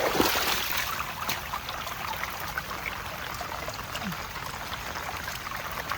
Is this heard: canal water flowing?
yes